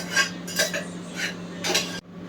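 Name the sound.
crab being tipped into masala in a pan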